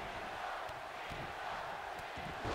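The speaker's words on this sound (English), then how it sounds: "the crowd's rooting for Cena here." Arena crowd cheering during a WWE 2K19 WrestleMania match, a dense, steady roar of many voices with a few sharp thuds, fairly faint, heard alone without commentary.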